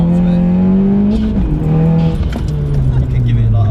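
A stage 2 tuned Audi S1 with a manual gearbox pulls hard from inside the cabin, its engine droning loudly and its pitch dropping at a gear change, while people talk over it.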